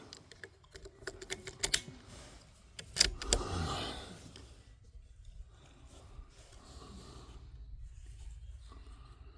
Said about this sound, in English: Change mags.